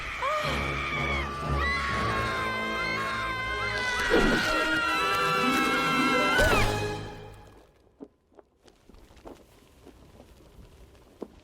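Animated film characters from The Incredibles scream together in loud, sustained, wavering cries. The screaming cuts off abruptly after about seven seconds, leaving near silence broken by a few faint clicks and rustles.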